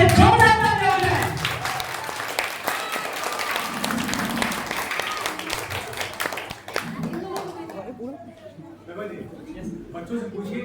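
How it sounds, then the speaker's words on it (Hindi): Audience applause and clapping for children at a school Independence Day celebration, a loud dense crowd clap that gradually thins and fades, with people talking over it. "इनके लिए एक बार फिर से जोरदार तालियां हो जाए।"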